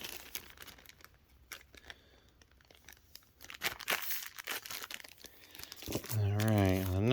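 Lego minifigures dropped into a plastic Ziploc bag make sharp plastic crinkling and rustling, with scattered handling clicks that grow busier toward the end, close by and fairly quiet.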